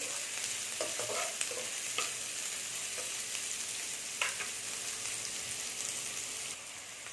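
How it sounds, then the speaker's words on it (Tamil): Onions sizzle steadily in hot ghee for a one-kilo batch of Mughlai chicken, a dense continuous fry with a few scattered stirring scrapes, close and alone with no voices. "இது இந்த நெய்லியே வதங்கணும்"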